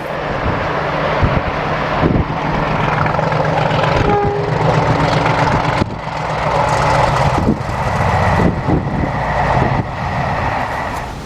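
Class 50 diesel locomotive 50017 hauls a charter train up the Shap incline on the West Coast line, a steady loud engine roar with rumbling wheels and wind buffeting the microphone throughout.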